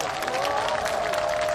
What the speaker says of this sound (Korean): 여러분들 박수 한번 쳐주십시오.